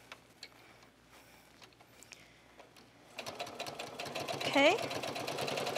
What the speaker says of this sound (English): And now I'm going to cut these threads and just sew down the other side so you can see what that looks like.